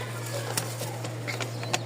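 Benarasi Lotan pigeons coo softly close by, a few short low calls and faint fluttery pats over a steady low electrical hum.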